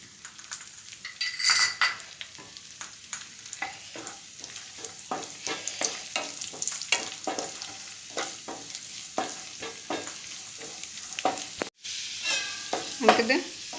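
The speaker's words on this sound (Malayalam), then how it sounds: "അതിലേക്ക് നമ്മൾ എടുത്തു വെച്ചിരിക്കുന്ന അണ്ടിപ്പരിപ്പും മുന്തിരിയും കൂടെ ഇട്ട് കൊടുക്കാം." Cashew nuts and raisins frying in a pan, a steady sizzle with frequent utensil scrapes and clinks against the metal as they are stirred, close and moderately loud, one brief dropout near the end.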